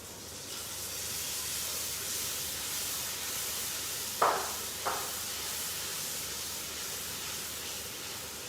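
Masala roasts in ghee under a steady broad hiss, with two short sharp clatters breaking in near the middle.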